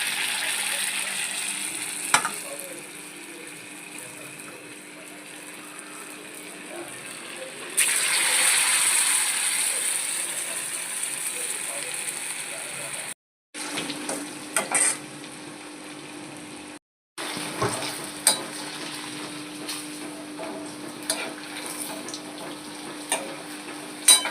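Crispy vegetables frying in oil in a pan and being stirred: a continuous close sizzle that swells louder partway through, with intermittent scraping and clinking stirs, briefly cut out twice.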